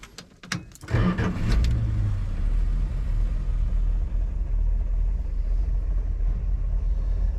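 An old RV engine with a freshly repaired carburetor cranks briefly, then catches and settles into a steady, loud low rumble that keeps running.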